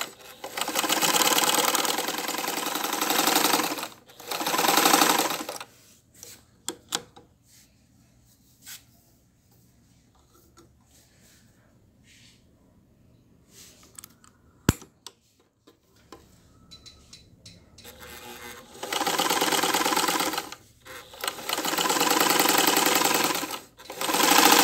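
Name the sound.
old Elgin sewing machine running on small motor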